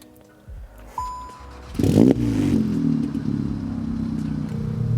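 A short starter crank catches and a 600 bhp methanol-injected Volkswagen Golf R engine settles into a steady, rumbling idle close by, with a brief clatter at ignition.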